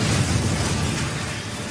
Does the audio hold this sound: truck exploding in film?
yes